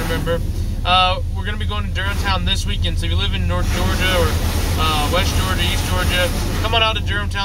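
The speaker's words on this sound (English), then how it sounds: "Sorry about the noise. Car wash," An automatic car wash runs around a Jeep, a constant rushing roar of spraying water and machinery filling the background while someone talks continuously over it.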